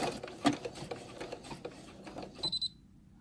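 A sewing machine with a buttonhole attachment runs by itself in a rhythmic, ticking stitch pattern, moderately loud, then stops and gives three short high beeps signalling it has finished.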